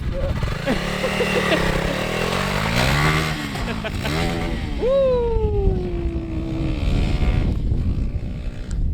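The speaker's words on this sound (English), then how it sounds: "taking the CRF300L for a ride" A Honda CRF300L dirt bike ridden off-road through bush, its engine close and loud, revving up and down in repeated rising and falling sweeps, with a steady rough rumble underneath throughout.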